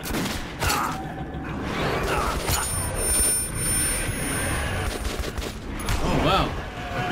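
Gunshots in Metro 2033 Redux, rapid bursts of weapon fire in a depot area, loud and repeated over ambient game noise, with someone talking over them.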